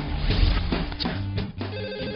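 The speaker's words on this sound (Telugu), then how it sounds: "ఈ ఫోన్ కాడే చేస్తున్నట్టున్నాడు." A telephone rings in a repeating electronic ringtone pattern, fairly close and clear, with no talking over it.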